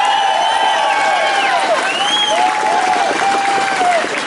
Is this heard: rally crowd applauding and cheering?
yes